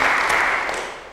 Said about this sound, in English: Let's give Sally a round of applause.